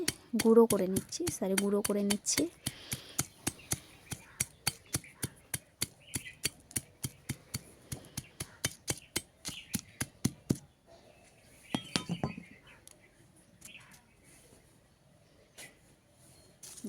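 Medicine is crushed into powder with rapid, steady knocking strokes that repeat evenly for about ten seconds, then scattered softer taps follow; a voice is heard briefly at the start.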